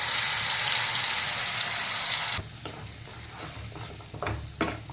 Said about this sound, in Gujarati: આ થાય એટલે આપણે જે ગ્રેવી કરી હતી ને એ એડ કરી દેવાની